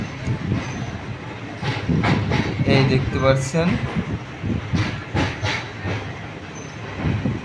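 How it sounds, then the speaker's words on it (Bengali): A train picks up speed on the rails out of New Cooch Behar Junction in North Bengal, India. Wheels rumble and clatter steadily on the track while someone talks over them. A few brief squeals and clicks come through. "আমাদের ট্রেনটা আস্তে আস্তে স্পিড বাড়াচ্ছে।"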